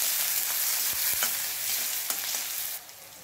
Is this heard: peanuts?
yes